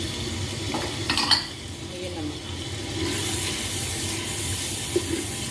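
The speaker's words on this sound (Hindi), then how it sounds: "थोड़ा सा इनको भून लेंगे" Ground turmeric, dried coriander powder and red chili frying and being stirred in a pan for a ridge gourd curry, with soft steady sizzling, scraping utensil clinks near the start and a few light taps, no talk.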